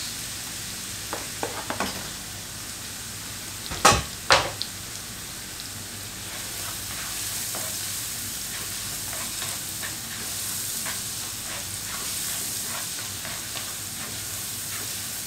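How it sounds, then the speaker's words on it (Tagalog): Garlic and onion sautéing in a pan for lumpia filling, a steady close sizzle with a couple of sharp stirring clatters partway through and no voices. "Ngayon lang natin mag light brown at yung bawang at ang sibuyas."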